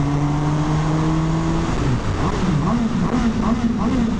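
A Suzuki GSX-S 750 motorcycle rides along under wind noise, its engine note holding steady and then dropping and climbing again as it accelerates, close and continuous.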